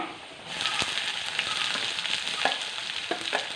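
Onions sizzle steadily as they fry in oil in a pan, with occasional stirring clicks and scrapes rising over the constant hiss.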